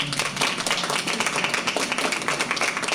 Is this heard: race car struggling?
no